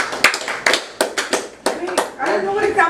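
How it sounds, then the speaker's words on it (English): Schoolchildren in a class giving a round of applause, a few loose separate claps close by, uneven and sparse, with voices chattering toward the end. "you're a round of applause."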